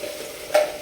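A brief hiss of spices tempering in hot oil for a sambar, a steady low sizzle with a sharper crackling burst midway.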